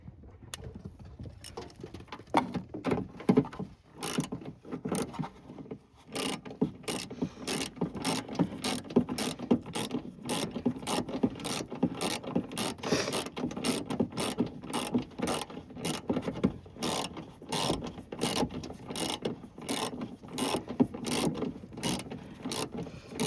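A hand ratchet clicks rapidly and continuously while tightening the wiper fluid tank on a 1984 first-generation Chevy S10, dense close-up ticking with brief pauses, no talk.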